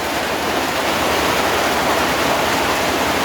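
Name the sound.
rain water pouring off a tin roof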